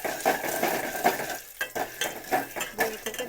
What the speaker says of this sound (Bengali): ভুট্টাটা দেওয়ার পরে নাড়াচাড়া করতে হবে